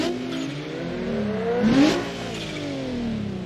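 A V6-style car engine in the BeamNG driving game revs up and eases off, its pitch rising and falling in smooth sweeps over a steady mechanical whir, with no voices.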